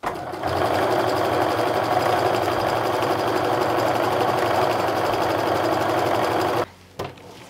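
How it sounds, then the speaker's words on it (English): A sewing machine runs steadily at speed, stitching straight through pieced quilt strips with an even, buzzing whir for several seconds before stopping, then a short burst more. "you can just sew straight through"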